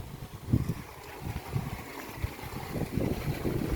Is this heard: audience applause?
no